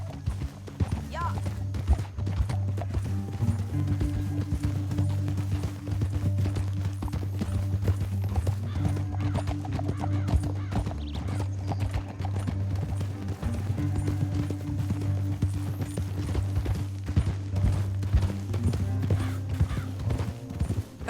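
Horses gallop in Red Dead Redemption 2, a steady, dense clip-clop of hooves over a low rumble that runs without a break under the characters' voices.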